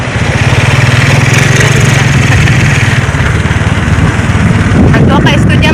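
A motorcycle engine hums steadily and loudly at close range while being ridden, with a constant low throbbing drone and wind noise throughout.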